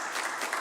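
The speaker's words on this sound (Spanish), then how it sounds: "vamos a darle un caluroso" Warm audience applause for a speaker at the Senate, a steady burst of many hands clapping together, loud and close, with no pauses.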